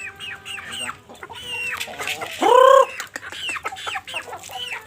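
Native chickens cluck repeatedly nearby, a series of short calls broken by one louder, drawn-out squawk, with the birds heard alone.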